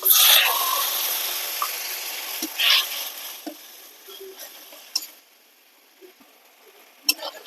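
Ginger paste, pepper, garam masala, green chilli and salt frying in a pan for prawn malai curry: a sizzle that starts fairly loud and fades to a faint crackle, broken by a few sharp clicks and taps.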